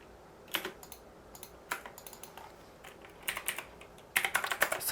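Computer keyboard keys clatter in short quick bursts while drafting in ZWCAD CAD software, including Ctrl and Enter presses, with several distinct clusters of crisp clicks in a quiet room and the densest flurry at the end.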